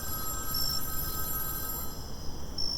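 An old telephone bell rings indoors with a steady, continuous trill at moderate loudness, held for the whole stretch with no voices.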